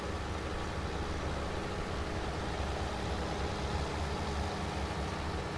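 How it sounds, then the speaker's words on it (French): Tractor engine pulling a trailer in Farming Simulator 19 gives a steady, low, continuous rumble, faint and unbroken, with no talk over it. "le joli tracteur arrive avec la jolie benne"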